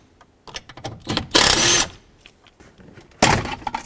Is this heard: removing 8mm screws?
yes